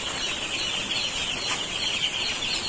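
Newly arrived chicks on a poultry farm, a dense, continuous chorus of high-pitched cheeping from many birds, steady and moderately loud with no talk.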